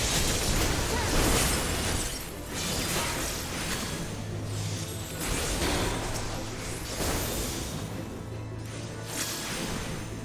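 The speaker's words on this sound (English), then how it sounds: "Explosion!" An explosion in Final Fantasy XIV, heard as a dense, roaring wash of noise with rumbling bursts that holds steady throughout instead of a single blast.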